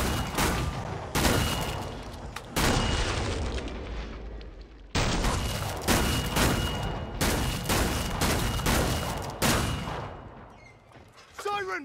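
Sharpshooter gunfire in the video game Killing Floor 2 booms out as a string of loud, sharp rifle shots spaced about a second apart, each with a heavy echoing tail, over constant battle noise.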